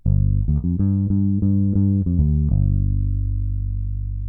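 A Harpy Instruments Flamingo electric bass in humbucker mode plays a short run of plucked low notes, then lets the last one ring out and slowly fade, warm and full, alone.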